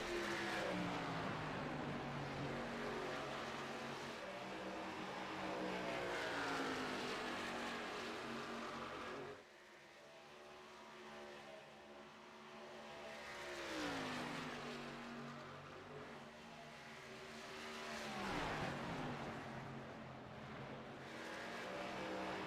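Race cars circle a track during a night race, engines droning loudly as they pass in turn, each one rising then falling away, with one car sweeping by closer and clearer partway through.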